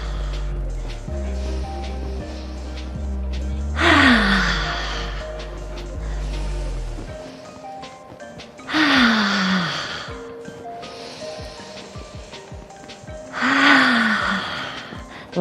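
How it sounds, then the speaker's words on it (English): Deep yoga breathing in a repeating pattern, with long audible exhales arriving about every five seconds between quieter inhales, close and breathy, over a soft sustained musical background. "Inhale, inhale, exhale. Inhale, inhale, exhale."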